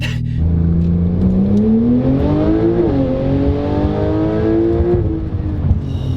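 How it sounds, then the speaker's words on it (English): Porsche 992 Turbo S engine accelerating hard, a loud, close rising roar that climbs steadily in pitch with a brief dip at a gear change before pulling up again and easing off near the end. "This is my favorite sounding Porsche I've ever driven."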